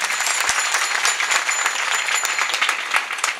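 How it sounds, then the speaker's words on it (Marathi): Applause from a crowd at a Ganesh festival kirtan in Warud, a dense, steady wash of many hands clapping at close range that holds throughout. "आपण एकदा जोरात टाळी वाजवू"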